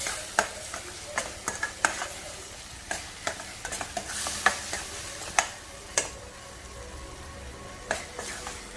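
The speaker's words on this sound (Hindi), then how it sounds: "तो अभी हम इसको थोड़ा सा पकाएंगे, लाल मिर्च थोड़ा सी पक जाए तो हम इसमें मिला देंगे" Red chillies cook in hot oil for baingan bharta, a low continuous sizzle broken by sharp spattering pops and stirring clicks at irregular intervals, fairly quiet, with no talking.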